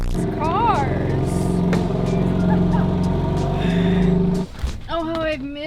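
A loud Honda S2000, fitted with a widebody kit, idles and revs close by in a steady droning rumble for several seconds before cutting off, with voices talking over it.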